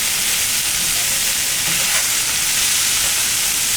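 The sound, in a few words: potatoes and cabbage frying in oil in a pan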